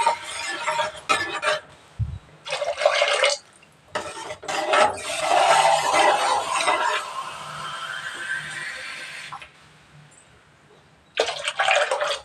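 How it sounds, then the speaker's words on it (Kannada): Water is poured from a vessel into a pot of rice for cooking, a close, loud gushing splash in several bursts with brief pauses between them, along with faint clinks of the pot. "4 ಲೋಟ ಆಗೋಷ್ಟು ನೀರು ಹಾಕ್ತಾಯಿದ್ದೀನಿ"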